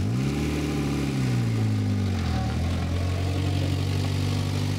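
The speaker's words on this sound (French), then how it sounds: "avec ce moteur P18" A Volvo P18 engine runs in a classic car at a vintage vehicle rally, loud and close, with a steady low drone whose pitch dips as the revs fall and then holds at a settled tone.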